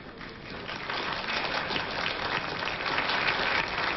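Applause greets Edward Heath as he signs Britain's entry into the Common Market in 1972, a dense, steady patter of clapping from a gathered crowd, slightly muffled and thin in tone.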